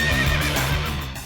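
A horse of fine breed lets out a loud, close, drawn-out whinny with no voices over it.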